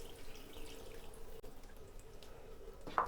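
Water pours from a glass into a pan of soya chunk and potato curry, a continuous low splashing and trickling at close range, ending with a short sharper splash.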